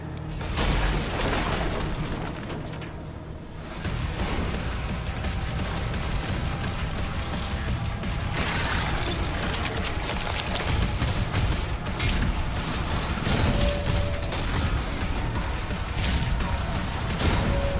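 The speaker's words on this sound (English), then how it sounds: "Heavy damage from gunfire." Dense, continuous combat noise from Doom: The Dark Ages on Xbox Series X: rapid gunfire and booming explosions layered throughout, loud and close, with a brief dip near the start.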